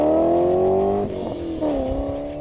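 A BMW E39 M5 V8 engine pulls hard in a launch from a standstill, its loud, steady rising drone climbing through the revs with a brief dip, close and without talk.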